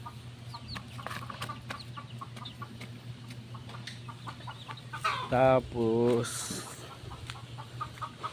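A mother hen clucking among young chicks, with a few louder, rising clucks standing out over a steady background hum and scattered bird chatter; a voice speaks briefly.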